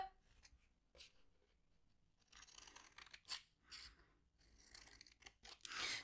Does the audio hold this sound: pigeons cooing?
no